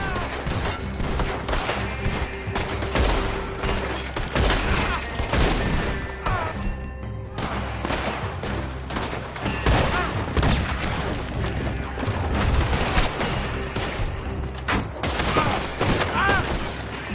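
Gunfire in the video game Red Dead Redemption 2, a dense, continuous fusillade of rifle and pistol shots with booms, loud and close, with shouting voices mixed in.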